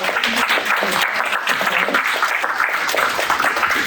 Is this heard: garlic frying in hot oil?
no